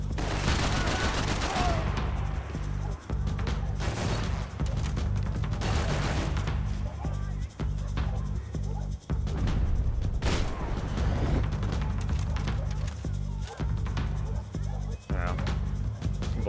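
Max Payne 3 gunfight with dense, continuous gunfire and heavy impacts under a constant loud roar, shots cracking irregularly throughout while someone talks over the action.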